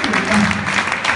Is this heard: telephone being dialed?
no